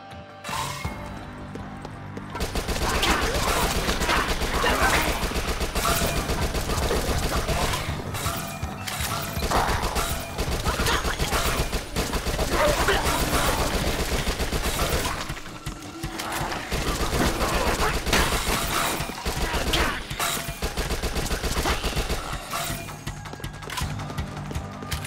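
Rapid SMG gunfire in the zombie shooter Dead Nation: Apocalypse Edition, sustained dense bursts with brief gaps, loud and mechanical, mixed with crashing game effects and no talk.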